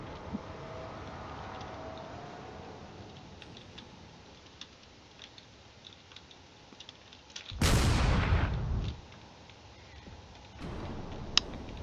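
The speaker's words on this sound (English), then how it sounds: "Lots of missiles moving in. More missiles going after the battleship here." Missiles and weapons fire erupt in a space battle between corvettes and a battleship, a sudden loud burst of blasts and rushing fire against a faint ticking background, with a few sharp clicks afterward.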